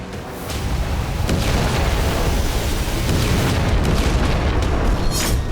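Explosions from strikes on Russian tanks in the war in Ukraine, heard as a loud, continuous, rumbling roar of blasts with scattered sharper bursts throughout and no speech.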